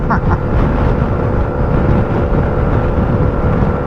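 A 2025 Yamaha NMAX 125 scooter climbing a steep incline, with a steady droning engine and heavy wind buffeting in the helmet, loud and continuous throughout.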